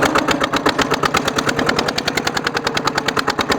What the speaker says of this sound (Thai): นี่ขนาดเกียร์สองครับนี่ นี่นะครับเกียร์สองเลยเนี่ย